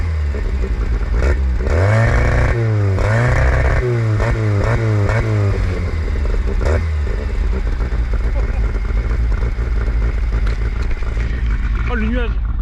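Diesel engine of a Peugeot 205 GL revved hard several times in quick rising-and-falling pulses, then settling to a rough idle, loud and close with people talking over it.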